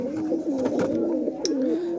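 Pigeons cooing close by, a steady rolling, throaty coo repeating through the whole stretch with little pause, alone without talk.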